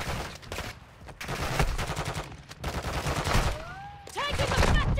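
Rapid gunfire in Call of Duty DMZ sounds as close bursts of automatic shots, with short pauses and a brief whistling tone near the end.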